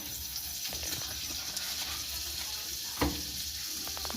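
Butter sizzles in a karai pan with a gentle, continuous crackle, fairly quiet and close, with one brief clunk of a utensil partway through.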